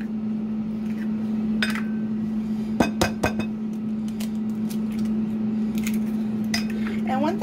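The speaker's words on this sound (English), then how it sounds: "I'm gonna scramble up some eggs, crack them into the bowl." Eggs are cracked into a bowl for a scramble in a home kitchen. A short cluster of sharp taps and clinks lands mid-way, with a few lighter knocks against a steady background hum.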